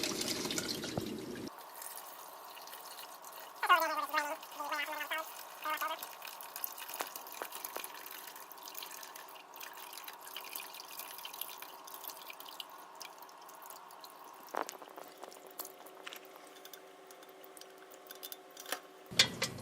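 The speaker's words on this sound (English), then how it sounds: "we're just going to let this drain for about 5 or 10 minutes until all the liquid goes away" Whey drips from draining cottage cheese curds in a quiet kitchen, with faint, irregular small drops and trickles and light clinks scattered across a soft background hum.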